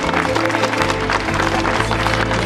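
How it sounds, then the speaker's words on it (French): Applause from the public at a cycling race stage podium in Audierne, Brittany: a steady wash of clapping from the crowd, even and continuous over a low hum of background noise. "On revient sur le côté droit pour des applaudissements qui sont destinés au meilleur animateur"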